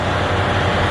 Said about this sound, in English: Sorry about the fan kicking on.